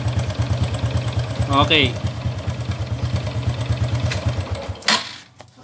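A motorcycle engine idling with a rapid, rhythmic tak-tak knocking, loud and close, with a brief spoken word over it before the engine is shut off near the end.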